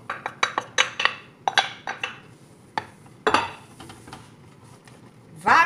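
Wheat flour stirred into boiling water in a pot, heard as a run of sharp metal-on-pot clinks and scrapes from a utensil in an irregular rhythm, close and fairly loud, with brief pauses between strokes.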